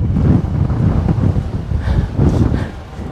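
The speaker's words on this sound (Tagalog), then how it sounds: "Grabe ah. Lakas ng hangin." Strong wind buffets the microphone on a high stairway near the sea, a loud, continuous low roar with gusts that swell and ease.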